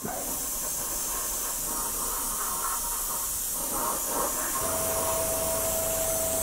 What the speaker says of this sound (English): That compressor is very quiet.